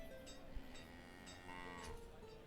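A cow moos from the livestock in the village-building game Banished: a faint, low, drawn-out call rising in the second half, heard alone under soft ambient game sound.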